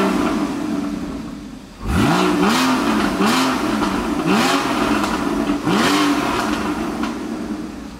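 A Porsche Boxster S with its original exhaust roars through a series of sharp revs inside a dealership: about five rising throttle blips at close range over a steady idle, with no talking.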